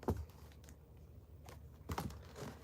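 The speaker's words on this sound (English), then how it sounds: "Let's get the third shuffle." Tarot cards are shuffled close by in a few short, crisp riffling bursts with quiet pauses between them.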